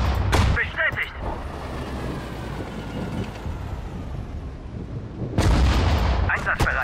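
Artillery cannon fire in the World War II strategy game Sudden Strike 4, Battle of Stalingrad, with sharp loud blasts at the start and near the end over a rumbling battle background, while voices speak.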